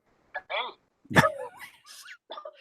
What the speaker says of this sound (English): Can you hear my dog clearly in the background there?